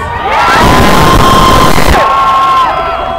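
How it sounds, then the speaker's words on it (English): A large crowd screams and cheers loudly and continuously, a dense roar of voices with shrill high shrieks riding on top. "Can you guys scream a little louder?"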